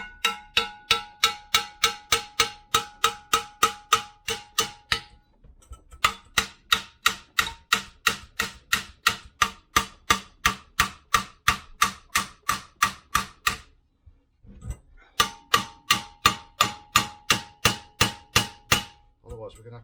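A hammer taps on a part of a 1993 Range Rover LSE in a workshop. Loud, close metallic blows fall in fast even runs of about two per second, broken by two short pauses.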